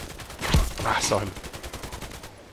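An RPK-74 light machine gun in the Contract Wars shooter fires a rapid, evenly paced burst of close, loud shots, with a voice partly overlapping the start of the burst.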